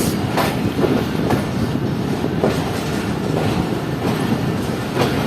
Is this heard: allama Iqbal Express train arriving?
yes